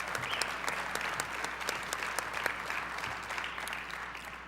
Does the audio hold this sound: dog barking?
no